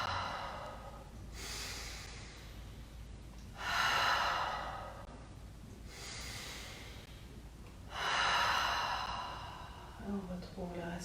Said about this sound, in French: Grand inspire et expire par la bouche